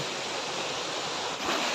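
Steady broadband rush of a forest waterfall, heard from nearby at the foot of the falls beside a stream, loud and continuous with no voices over it.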